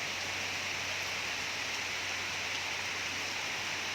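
Heavy rain pours down steadily in a stormy typhoon setting, a dense, continuous hiss that stays loud and even throughout with no voices.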